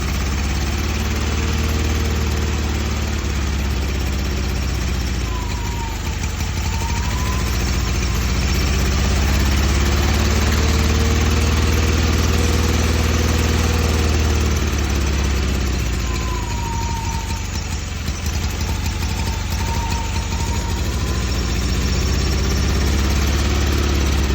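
A car engine idling roughly after an engine swap, a loud, steady low rumble with slight wavering in pitch and uneven vibration over a long stretch.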